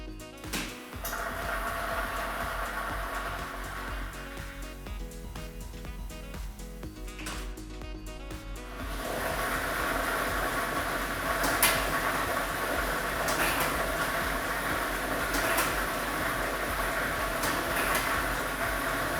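A lottery draw machine churning numbered balls during a televised Ukrainian state lottery draw, a loud continuous rattling roar with scattered clacks, growing fuller and louder partway through.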